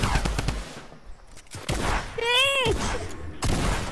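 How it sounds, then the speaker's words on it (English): Video game gunshots from Fortnite ring out in quick clusters with loud bursts of shots, and a short yelled word from a player cuts in partway through. "I missed every shot!"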